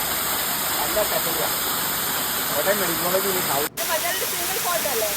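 Pampanal Waterfall pours in a steady, broadband rushing roar that fills the whole clip, with voices talking over it and a brief dropout near the end.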